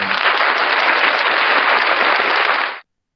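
Applause for a student after his presentation in an Indonesian language class, a steady wash of many hands clapping at an even level before it cuts off abruptly into silence.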